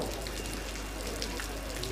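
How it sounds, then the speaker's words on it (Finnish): Heavy rain pours down steadily on an outdoor football match, a dense, even hiss with scattered patters of drops throughout, no voices rising above it. "Tuo sade samalla yltyy täällä entisestään."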